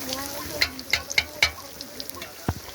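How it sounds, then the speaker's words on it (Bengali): Eggplant fritters (beguni) fry in oil in a home kitchen, with a soft sizzle and a series of sharp, spaced crackles and pops close by. "আর এদিকে বেগুনি ভাজা"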